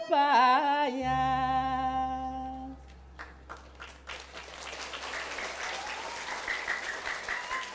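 At a Balinese Drama Gong performance, sustained tonal music and singing give way to audience applause that starts scattered and swells into a dense, continuous round of clapping for the rest of the stretch.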